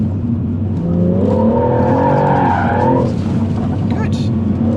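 A car drifts with its engine revving hard and tires squealing, loud and close, as a person talks over the noise.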